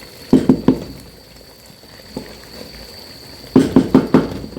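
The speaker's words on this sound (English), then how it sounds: "So it's frying beautifully." Sizzling bursts of shito, a Ghanaian chili sauce, frying in a pot: a quick cluster of pops and spatters, a lone crackle, then another cluster, close by.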